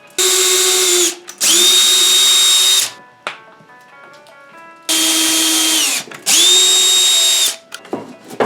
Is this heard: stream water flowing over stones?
no